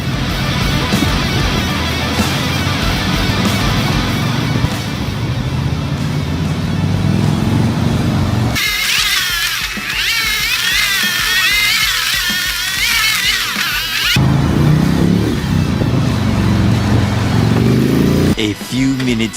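Indian Sport Chief and Scout 101 motorcycles are ridden, one with a big air-cooled V-twin and the other liquid-cooled, giving a steady engine drone with rising and falling revs and a stretch of wind rush.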